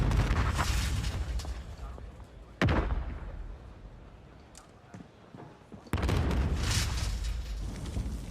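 Call of Duty Modern Warfare grenade blasts in a Search and Destroy esports match, with two sharp booming detonations several seconds apart over busy game noise and commentator talk.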